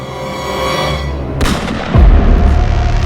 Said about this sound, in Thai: เสียงปืนดังขึ้นหนึ่งนัด